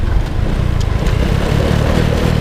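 A Honda Dream 125 motorcycle accelerating toward top speed, with a loud, steady engine drone and wind rush recorded up close.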